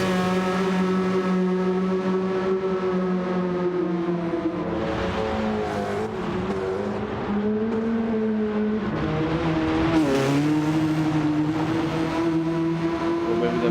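Rallycross race cars in a video game, running on dirt at the Sardegna Windmills track, give a steady, loud engine drone with shifting pitch and revs, continuous and close throughout, with no talk.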